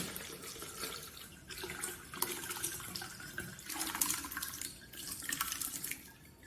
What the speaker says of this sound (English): I'm just going to sieve it through a kitchen sieve and also some muslin cloth